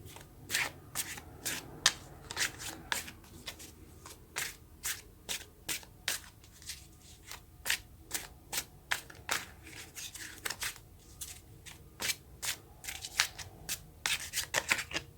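Tarot cards being shuffled by hand give quick, crisp riffling bursts in an irregular rhythm, close and fairly quiet, with no talk over them.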